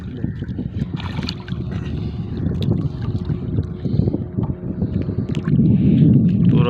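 An engine boat passes on the water, its motor a steady low churning drone that swells louder toward the end, mixed with wind buffeting the microphone and no voices.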